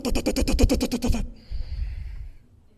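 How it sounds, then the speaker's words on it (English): A rapid series of about ten scraping, juddering bursts, like a heavy table dragged across carpet, then a softer rustling drag that fades out. "That's the sound that one of the tables in the legacy room makes if one person drags it all by themselves."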